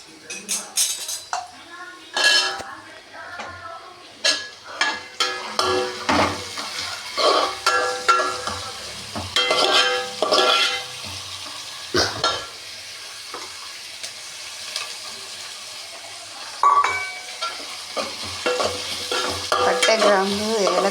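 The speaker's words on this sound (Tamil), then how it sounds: "பட்டை, கிராம்பு, ஏலக்காய், வெங்காயம், ஜீரகம்லாம் போட்டு இதில் வதங்கட்டும் நல்லா." Onion, cinnamon, cloves, cardamom and cumin frying in a home kitchen pan, with repeated scraping stirs, metal clinks and a soft sizzle underneath, close and moderately loud with irregular bursts.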